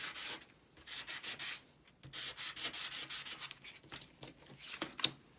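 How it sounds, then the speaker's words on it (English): A tiny nail-style sanding block rubs back and forth over a painted craft surface in quick, steady strokes, faint and close with no talk. "I have this teeny tiny little sanding block that came from like a nail appointment or something way back"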